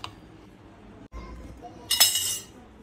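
Thalipeeth batter mixed with crushed peanut powder in a bowl, heard as a quiet, soft stirring with a few light clinks of the spoon against the bowl and a brighter scrape near the end.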